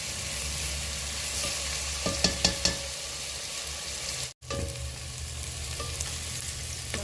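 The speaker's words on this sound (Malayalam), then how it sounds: "നമ്മുടെ ഓണിയനൊക്കെ ട്രാൻസ്പെറൻ്റ് ആയിട്ട് വന്നിട്ടുണ്ട്. കുറച്ചുകൂടി നമുക്ക് വറുക്കാനുണ്ട്." Onions frying in a pan for a country-style chicken curry give a steady, even sizzle, with a few light clicks of stirring and one brief moment of quiet midway.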